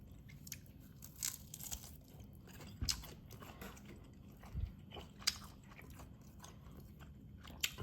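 Someone chews crispy air-fried food topped with hot sauce, with close, quiet crunches and bites repeating irregularly between soft chewing.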